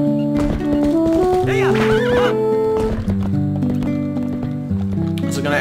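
Horse in The Legend of Zelda: Twilight Princess on GameCube, with a loud whinny and clip-clopping hooves over game music, alongside voices talking.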